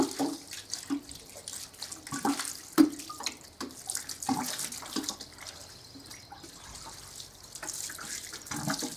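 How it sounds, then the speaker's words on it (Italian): Hands washed under a running tap outdoors at a cemetery, a steady close splashing stream with intermittent sharper splashes and drips, no talking. "Mi lavo pure le mani, già che ci"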